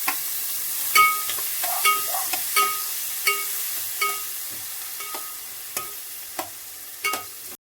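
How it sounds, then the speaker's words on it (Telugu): Chopped tomatoes and green chilies fry in a pan for paneer methi chawa, with a soft background sizzle broken by a regular series of sharp clinks from a spoon striking the pan, close and fairly loud, with no talking. "అలా వేగిన తర్వాత పచ్చిమిర్చి కూడా టమోటాలు వేసేయండి కట్ చేసినవి"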